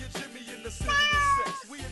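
A cat meows once, a drawn-out, rising and falling cry, heard up close with nothing else around it.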